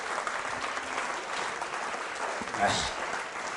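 Audience at a school quiz show clapping loudly, a continuous crowd applause at steady level with a brief swell near the end and faint voices underneath.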